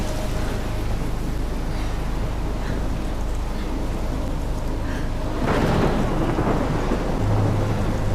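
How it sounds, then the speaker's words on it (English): In the video game Life is Strange, a thunderstorm plays as steady, heavy rain and wind with low rolling thunder. The roar swells louder partway through, with no voices. "I don't know why we're in this storm, but we're in it"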